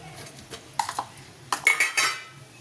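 Coriander chutney is mixed in a bowl, giving a few scattered scraping and clinking strokes of a spoon against the dish in short bursts, close and moderately loud, with no talking.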